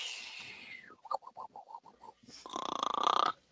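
A person vocally imitates snoring goblins for a Dungeons and Dragons tabletop session: a run of short, rhythmic snorted grunts followed by a louder, rasping drawn-out snore, close to the microphone with no other talk.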